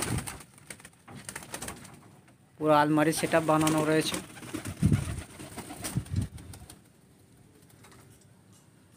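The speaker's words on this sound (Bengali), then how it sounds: "তো চলুন এইদিকে পায়রাগুলো দেখিয়ে দিই একবার।" Pigeons in a large loft give a short run of low, throaty cooing mixed with faint rustling nearby, while someone talks over parts of it.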